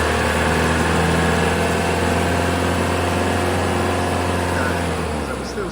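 Mercedes E-Class diesel engine with DPF soot and low boost pressure faults, running steadily at raised revs, a loud continuous drone with low harmonic hum held throughout.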